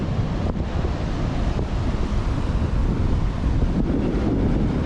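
Ocean surf rolls onto a sandy beach under strong gusting wind that buffets the microphone, a dense continuous roar with no voices.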